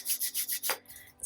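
A metal file rasps against the bottom of a wire-wrapped crystal pendant in a steady series of about six close, rhythmic strokes, then trails off into quiet.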